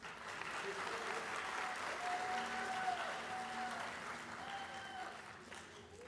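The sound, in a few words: audience round of applause for a teacher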